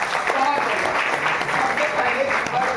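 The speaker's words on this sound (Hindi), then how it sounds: "तीनों के जोरदार तालियां" Audience applause at a stage event with YouTubers, a steady dense wash of clapping sustained throughout under a faint voice.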